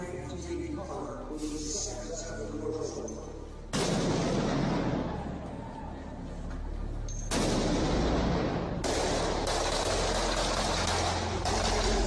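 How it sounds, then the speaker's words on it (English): Loud, booming blank-round gunfire bursts crack and roll off downtown Miami high-rises, layered over constant city traffic rumble, with sharp onsets followed by long echoing tails. "some blank rounds of gunfire pinging off the high-rises here in downtown Miami"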